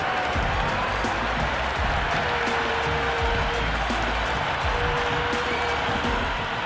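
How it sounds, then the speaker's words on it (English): A large cricket crowd roars and cheers continuously in the video game Cricket 26, a dense wash of noise with scattered clapping and shouts across the whole stretch. "the crowd have joined the party. It's pretty noisy at the ground"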